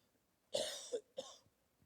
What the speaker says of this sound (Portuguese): o resfriado pegou o padre, então de vez em quando vai escapar uma tosse